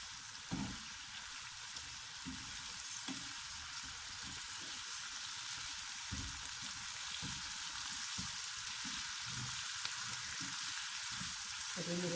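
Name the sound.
green chillies frying in a pan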